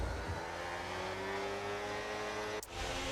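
Racing cars on the formation lap of the Australian Grand Prix in an F1 video game, a steady engine drone with tonal whine held throughout and one brief sharp whoosh near the end.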